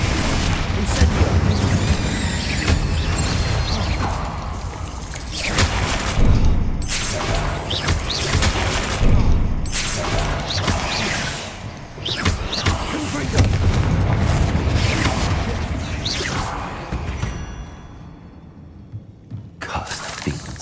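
Incendio fire spell cast in a wizard video game: a run of heavy booming blasts and crackling bursts, repeated over and over, with speech mixed in.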